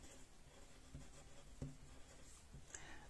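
A pen scratches across paper while someone writes on a printed card sheet, soft scribbling strokes with a few light taps, faint and close in a quiet room.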